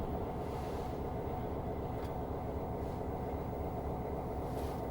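A train running on the railway line toward Theale gives a continuous, loud low rumble of wheels and carriages, steady throughout with faint passing rattles and no talk.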